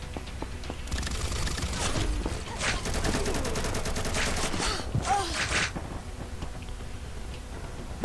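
Sustained bursts of rapid automatic gunfire in the shooter game Combat Master, loud and dense for several seconds before tapering into sparser shots and background noise.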